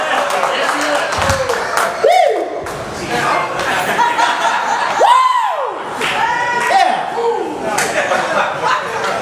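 A pub crowd at a stand-up comedy set bursts into applause, cheers, whoops and laughter, a loud, sustained wash of clapping with rising shouts and voices mixed in throughout.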